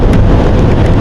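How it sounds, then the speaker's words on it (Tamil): Heavy rain pours during a motorcycle ride in Tamil Nadu, a loud, dense hiss of drops that fills the whole short moment with no voices. "மழை பெருசாக பெய்யுது."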